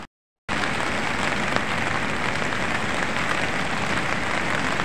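Dense, steady night downpour roars without letup after a brief silent moment at the start, loud and close, on a river trail.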